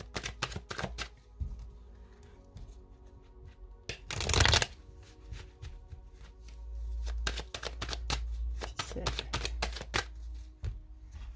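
Rider-Waite tarot cards are shuffled in rapid bursts of crisp riffling and flicking, close and fairly quiet, with one louder sustained riffle partway through and no voices.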